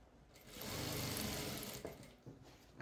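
Sewing machine running steadily while stitching a sofa cover during reupholstery, one continuous near whir that slows and stops, followed by a few short bursts of handling.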